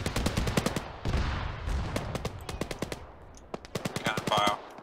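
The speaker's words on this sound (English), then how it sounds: "Gun fire." Gunfire in the military video game Arma 3 cracks out in rapid bursts and single shots, loud and sharp with some echo, continuing across the whole stretch.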